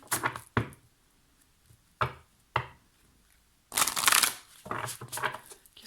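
A deck of oracle advice cards being shuffled in a series of sharp riffling bursts separated by pauses, the longest and loudest flurry near the end, close and alone with no talk.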